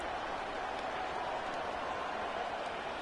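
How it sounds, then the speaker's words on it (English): Loud football stadium crowd during a Bengals game with Burrow on third and long, a dense steady roar of cheering and noise filling the space evenly throughout. "This crowd turning up the decibel level."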